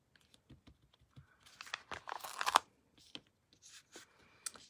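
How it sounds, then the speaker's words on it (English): Backing is peeled off a paper sticker sheet for card-making, giving soft crinkling and papery tearing rustles in short bursts, a louder sustained peel in the middle, close and quiet with no talking. "peel off the backing."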